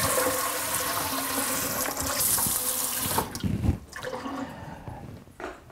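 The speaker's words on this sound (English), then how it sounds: "your next step is to rinse off the salt from the eggplant." Tap water runs steadily over salted eggplant pieces being rinsed in a kitchen sink, a continuous splashing stream that breaks into uneven gushes and spatters near the end.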